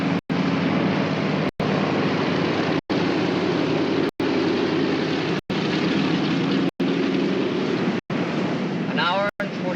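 A military aircraft's engine runs steadily after landing, a loud broadband roar with wind buffeting, broken by several brief cutouts.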